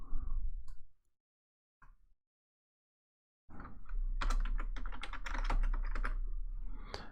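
A new password is typed on a computer keyboard, a brief click or two followed by a silent pause, then a steady, close burst of rapid keystrokes lasting several seconds.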